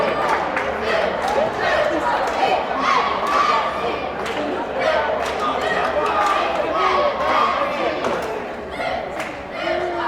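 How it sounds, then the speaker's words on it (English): A crowd at a Jefferson College women's basketball game, Lady Vikings against Mineral Area Cardinals, keeps up a loud, steady roar of shouting and cheering, with scattered thuds and sneaker noise and voices mixed throughout. "This crowd's getting into it."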